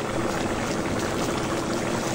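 Fish curry broth boils in a pot, a continuous close hiss of bubbling with no pauses.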